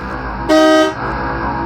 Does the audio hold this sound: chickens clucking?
no